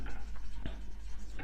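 Marker or chalk writing on a board during a physiology lecture, a short run of scratchy strokes with brief pauses, close and fairly clear with no talk over it.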